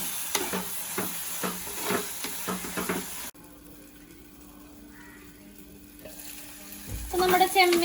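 Prawns roasting in a clay pot, loud frying sizzle with stirring scrapes at first, then a quieter covered simmer with a low hum before sizzling and clinks return at the end.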